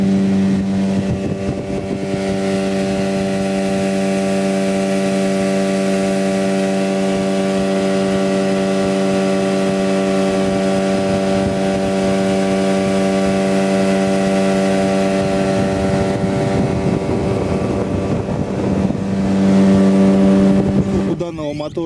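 A Yamaha 8 hp outboard boat motor, mounted on rubber cushions, drones steadily throughout, a loud, even engine hum with rushing water noise building toward the end.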